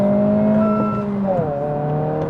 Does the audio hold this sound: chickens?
no